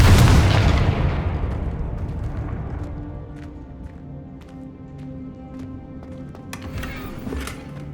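A Confringo fire spell from the Hogwarts Legacy video game erupts in a loud blast that rolls off into a rumbling decay, followed by softer magical crackles and sparkling hits over a sustained tonal hum.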